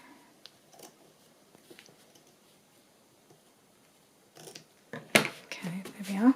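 Scissors snip through journal cover material in a few close, sharp cuts near the end, after a quiet stretch of faint handling sounds.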